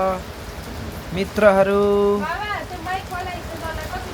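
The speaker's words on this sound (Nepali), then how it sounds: "पानी पनि त्यसरी नै परिराखेको छ" Steady rain falls at Tinjure during a traffic jam of tourist vehicles, making a continuous soft hiss. Someone talks over the rain throughout.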